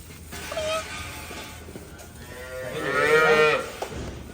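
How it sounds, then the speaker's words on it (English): Hungry cattle mooing on a farm, a short low moo early then a louder, longer drawn-out moo near the end, fairly close with faint background noise. "That's why they're all mooing, because they're hungry."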